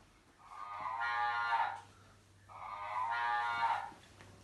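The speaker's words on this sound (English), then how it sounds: "Sorry, Mrs. Cow. How do you do? And where are you off to? Moo" Two drawn-out, harmonic cow moos, each lasting about a second and a half with a short gap between, sounding close and fairly loud over a quiet low hum, heard during a church nativity play.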